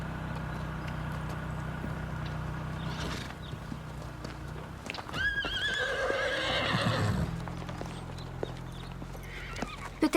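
A horse whinnies loudly close by amid a steady clip-clop of hooves, with a continuous low background hum throughout.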